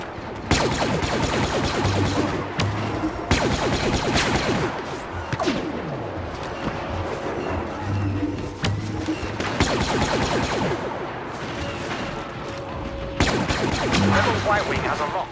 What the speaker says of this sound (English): I am like an expert at hitting everything but what I'm shooting at